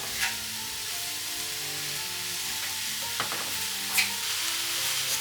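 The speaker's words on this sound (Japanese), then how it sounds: "引き続き強火で炒めます。" Mushrooms sizzle steadily in a pan over high heat, a continuous broadband frying hiss with a few faint clicks and pops, close and alone without any talk.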